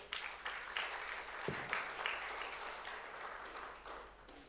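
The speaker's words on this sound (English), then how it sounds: "Once again, a big round of applause to Mr. Alberto Rodriguez for his speech." Sustained applause from a crowd, a steady wash of clapping with no voices, fairly distant and even in loudness throughout.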